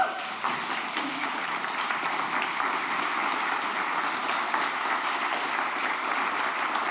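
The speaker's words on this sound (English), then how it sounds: "yes, applause for Per" Audience applause after a conference talk at Codegarden, a steady, even wash of many hands clapping that holds through, with a faint voice underneath near the start.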